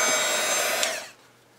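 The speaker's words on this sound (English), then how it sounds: "hair dryer." A hair dryer blows a steady, broad whoosh close by for about a second, warming a dried-up gel eyeliner, then cuts off abruptly, leaving near silence.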